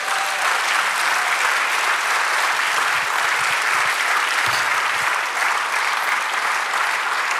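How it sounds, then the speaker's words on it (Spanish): A church congregation applauds in a sustained, dense wash of clapping that stays steady and loud throughout, with faint voices mixed in. "Dale un aplauso al Señor."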